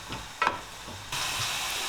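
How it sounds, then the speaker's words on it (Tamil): Chopped green chilli and coriander leaves sauté in a pan for an egg samosa filling. Quiet, then a sudden steady close sizzle and hiss begins partway through and continues to the end. "நல்லா நறுக்கின மல்லி இலையும் கொத்தமல்லியும் போட்டு வதக்கி விட்டுருங்க"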